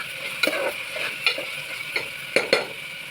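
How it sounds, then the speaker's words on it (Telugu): Onions fry in a pan under a steady close sizzle while a utensil stirs them, scraping the pan in several distinct strokes, with no voices. "ఇవి బాగా రెడ్గా వచ్చే వరకు, గోల్డెన్ బ్రౌన్ వచ్చే వరకు మనం ఫ్రై చేసుకుందాం"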